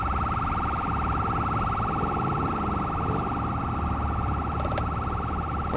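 An ambulance siren from Grand Theft Auto V wails steadily in a fast repeating cycle over low in-game traffic rumble, with a brief higher chirp near the end.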